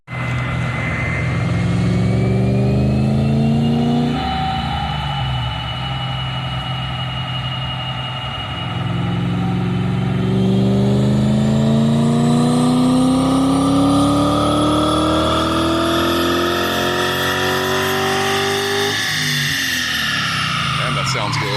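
A BMW E31 840ci V12 engine with a manual transmission swap, revving hard on a dyno pull, loud and close with pitch climbing through the gears in long sweeps, a brief drop between shifts, under a steady roar.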